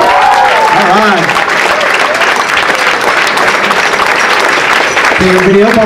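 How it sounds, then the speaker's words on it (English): Sustained audience applause after a fire qigong demonstration, loud and dense throughout, with voices and cheers rising over the clapping at the start and end. "give him applause"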